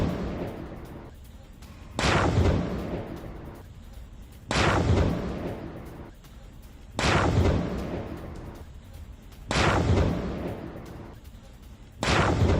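Dozens of blasts at the Arzamas missile plant come as heavy, booming explosions, one about every two and a half seconds, each with a sharp onset and a long rumbling decay into a steady background roar.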